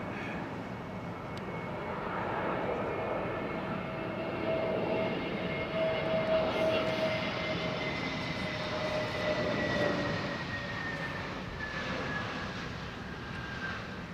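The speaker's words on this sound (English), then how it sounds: "There have been a couple of sketchy landings, but it seems to be more often now because of these variable winds." Fixed-wing aircraft landing in gusty, variable winds, its engine a steady droning roar with a rising and falling whine that builds and fades over about fourteen seconds, heard from a moderate distance with no talking.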